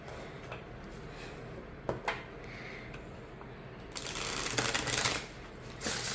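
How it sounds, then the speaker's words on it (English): A Llewellyn Tarot of Vampyres card deck is shuffled by hand, brief riffling flicks first, then a longer, louder burst of card shuffling near the end, close and clear in a quiet room. "Okay, so we'll zoom out and we'll see how this shuffles."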